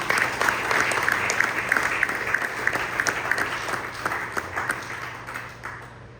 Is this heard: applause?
yes